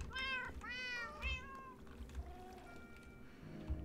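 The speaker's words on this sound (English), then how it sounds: "Baby kitty! Look at that. Now I've got more kitties." Several cat meows in the video game Minecraft, three clear rising-and-falling cries in quick succession early on, followed by quieter tones and low background noise.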